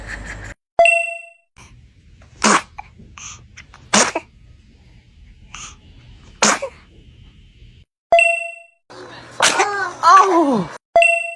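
A newborn baby gives several short, sharp sneezes spaced a second or two apart, close and loud, with bell-like dings between some of them and a fussy cry-like vocalization toward the end.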